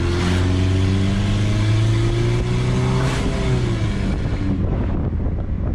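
A car engine revs loudly and steadily with rising and falling pitch, its lack of a proper exhaust system adding a raw roar, accompanied by wind buffeting the microphone.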